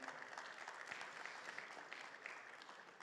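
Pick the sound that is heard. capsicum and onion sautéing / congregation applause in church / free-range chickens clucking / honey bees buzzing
congregation applause in church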